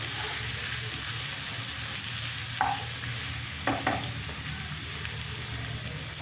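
Potatoes and onion fry in a pan, giving a steady close sizzle with a few brief scraping stirs partway through, no talking.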